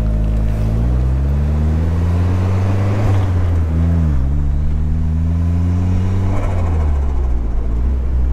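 A Mazdaspeed car running on big tires drives past close and loud, its engine droning steadily with revs rising and falling several times, and no one speaks.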